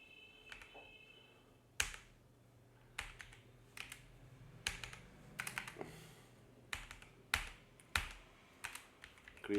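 Close, sharp computer keyboard key presses come in scattered clusters and single taps over about ten seconds, crisp against a quiet background with no voices.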